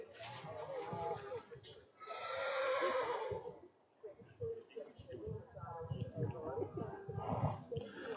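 A horse neighs and whinnies at a western horse sale, a long shrill call rising over faint background commotion, with a person talking through much of it.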